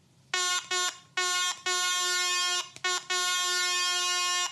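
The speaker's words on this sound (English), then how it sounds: "It's a terrible air horn app." A phone app plays a loud, buzzy electronic air-horn tone in several blasts of uneven length with brief gaps between them, the last blast running long.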